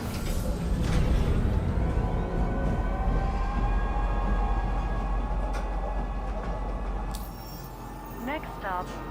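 A metro train in Star Citizen pulling into Metro Center station, a loud steady rumble of wheels and motor throughout, with a brief rising chime or tone near the end and talk over it.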